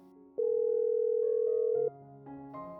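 A telephone sounds a single sustained steady electronic tone, fairly clear and alone, followed by softer shifting tones.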